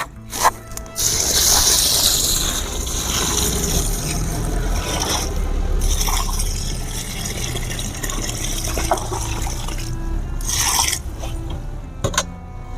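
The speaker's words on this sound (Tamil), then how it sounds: "தண்ணி ஊற்றிக்கலாம்." Water poured onto the soil of an earthing pit during an electrical earth installation, a steady broadband splashing and gurgling that runs nearly continuously, with brief louder bursts near the start and end.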